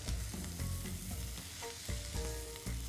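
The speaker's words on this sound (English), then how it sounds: "And the more you stir the noodles in, the more they'll break up." Haluski egg noodles with cabbage and onions are stirred in a frying pan, a close, even sizzle broken by repeated scraping and tapping strokes of the spoon, with no voices.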